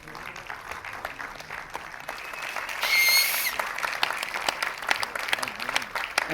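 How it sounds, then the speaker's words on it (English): A crowd at a film cast and crew felicitation event in Goa keeps up steady applause that swells briefly and then carries on, with a voice faintly audible beneath the clapping. "Let's give a big round of applause for Mona"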